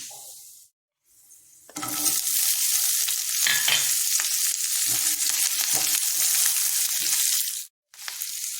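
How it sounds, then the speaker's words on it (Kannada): Chopped onions sizzle in a hot tempering of oil and spices with peanuts for a simple tiffin, a steady loud frying hiss with brief quiet gaps at the start and end and faint stirring clatter. "ಒಗ್ಗರಣೆ ಫ್ರೈ ಆದಮೇಲೆ ನಾನು ಬರೀ ಇವತ್ತು ಈರುಳ್ಳಿ ಹಾಕ್ಕೊಳ್ತಾ ಇದ್ದೀನಿ"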